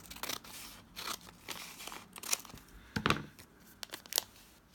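Scissors snipping across the corner of a bag, a few quiet, close crisp cuts with light crinkling of the material.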